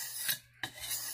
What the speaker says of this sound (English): when they sharpen, they'll make a whole pass